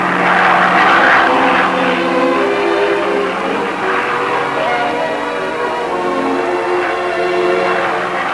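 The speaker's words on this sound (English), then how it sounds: "Gliding past rugged snowcaps, the plane gradually climbs to the elevation required for the particular photographic information it must obtain." A propeller-driven survey plane climbs past snowy mountain peaks, its engine droning loudly and steadily with a throbbing hum that slowly shifts in pitch.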